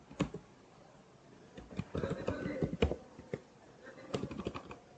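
Quick bursts of typing on a computer keyboard, fairly faint clicks in uneven clusters with short pauses between them, close by in a quiet room.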